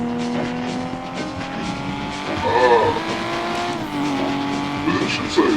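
A car drives with tires and brakes squealing in rising, wavering tones, engine noise steady underneath while people talk over it.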